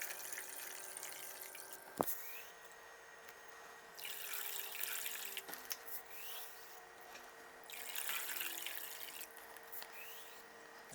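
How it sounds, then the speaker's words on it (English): Water pours into an inner bowl until it is full to the brim, for an Archimedes' principle demonstration. Two quiet gushes of pouring and trickling are separated by a single sharp clink and a near-silent gap. "And now we're going to fill this inner bowl right back up to the brim."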